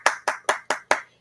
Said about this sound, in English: I'll do my own hand clap.